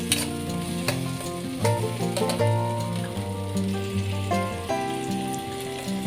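Chopped onions and tomatoes sauté in a pan for a home lunch, giving a continuous close sizzle with stirring scrapes, layered over a steady tonal background and no talking.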